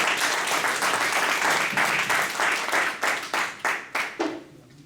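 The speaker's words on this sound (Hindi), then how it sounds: "एक बार टाइम से ताली बजा दीजिए इनके लिए" Audience applause for a contestant at a leadership centre competition in February 2017, a steady crowd clapping that thins out into a few separate, fading claps at the end.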